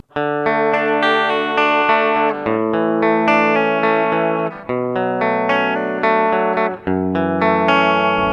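Sustained, heavily distorted chords from a Traveler Guitar Speedster Deluxe travel guitar with a single pickup at full volume ring out loudly, changing every couple of seconds with brief dips between them.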